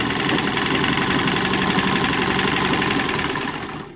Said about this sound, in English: it's just like any other sewing machine. You want to go above it to start sewing